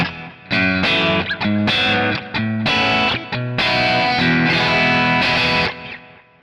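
Electric guitar chords ring out with delay echoes and a reverb tail, several strummed phrases in sequence, clean but slightly driven, fading out at the end.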